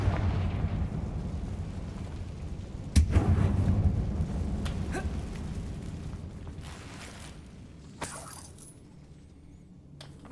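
A Confringo spell explosion in the wizarding video game Hogwarts Legacy: one sharp, loud blast followed by a rumbling tail, with fainter bursts and pops later over a low game ambience.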